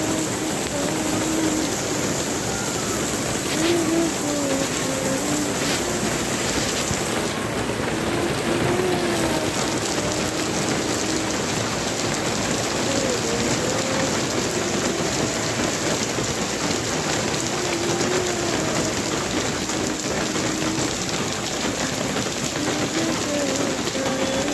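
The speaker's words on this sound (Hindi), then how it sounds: "आप भी देखिए कितनी तेज़ बारिश हो रही थी।" Heavy morning rain pours steadily and loudly for the whole stretch, a dense continuous hiss of drops on surfaces, with a faint rumble of thunder in the background.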